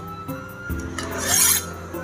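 A large premium golok machete blade is drawn along a jumbo strop, giving a close, dry rasping rub that swells into one louder, longer stroke before fading.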